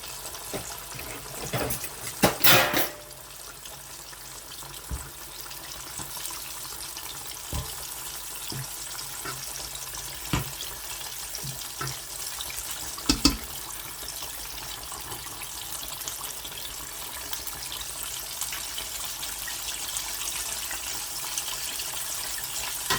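Chicken pieces for KFC-style chatpata chicken fry in oil, a soft, steady hiss running throughout, broken by a few louder clatters of utensils near the start and middle.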